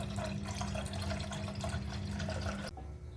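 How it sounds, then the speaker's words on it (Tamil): A litre of full-fat milk pours into a pan in a steady, close liquid stream that stops abruptly near the end, leaving quiet room tone. "இதுக்கு ஒரு பேனில் 1 லிட்டர் பால் சேர்த்துக்கிறேன்"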